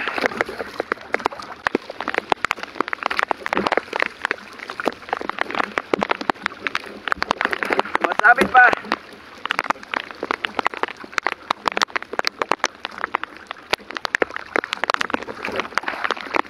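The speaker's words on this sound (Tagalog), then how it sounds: "Lagi na lang umuulan." Rain falls steadily as a dense patter during a fishing trip, with scattered drop hits and splashes throughout while someone talks intermittently over it.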